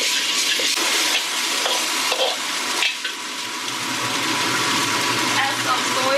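Pork slices stir-frying in a hot wok for a home-style celery pork dish, a steady loud sizzle with scraping and tossing sounds throughout, no voices.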